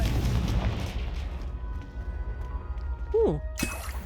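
A Confringo blasting spell goes off in Hogwarts Legacy as a deep, rumbling low-end boom at the start that fades over a couple of seconds, followed by a brief whooshing magical flourish and a short sharp burst near the end.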